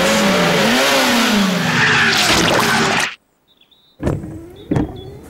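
A cartoon tow truck's engine strains and revs loudly for about three seconds, then cuts out into near silence before a few short mechanical clunks and squeaks.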